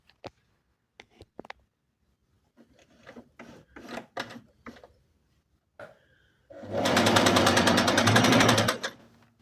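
A Singer Inspiration sewing machine set to its longest 5 mm stitch: a few soft clicks and knob adjustments, then one loud, steady burst of rapid stitching lasting about two seconds before it stops.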